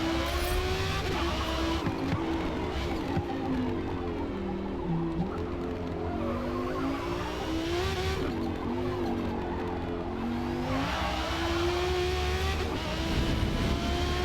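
A Nissan R34 Skyline race car driven in Forza Motorsport, its engine holding a steady, loud, close drone that rises and falls with gear changes, with tire noise underneath and no pauses.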